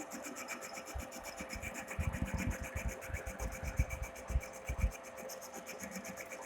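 A lathe motor hums steadily while the cutting tool takes a 1 mm cut off a turning workpiece, with a rasping, rubbing scrape that builds in the middle and then eases back to the machine's drone.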